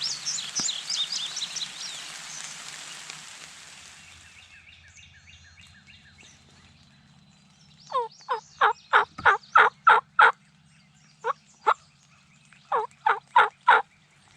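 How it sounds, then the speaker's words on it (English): A wild turkey gobbles in several rattling bursts from some distance, following an earlier stretch of higher chirping birdsong. "I got a bird gobbling about every 10 minutes over here"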